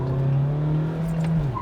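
An MG Hector diesel SUV engine held at a steady 2000 rpm, a loud, close, even drone that sustains for a second and a half and then drops off slightly at the end.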